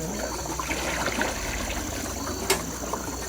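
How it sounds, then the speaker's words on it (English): Rainwater runs into a watering can being filled about halfway, a steady close trickle and splash with a brief sharper splash near the end. "I'm going to just fill it about halfway with rainwater,"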